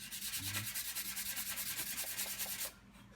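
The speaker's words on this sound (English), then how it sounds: "to take even more of the rough sanding off, I'll use 220" Steady, rapid back-and-forth scratching of 220-grit sandpaper on wood, close and even in rhythm, stopping abruptly near the end.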